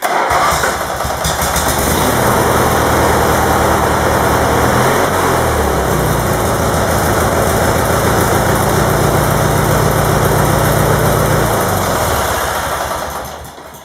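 A small garden tractor engine runs close by in a steady, loud drone for several seconds and then dies away at the end.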